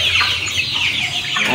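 Goliath chickens kept in a cage on a farm in Chad cluck steadily and close by, a dense overlapping flock chatter with no voices over it.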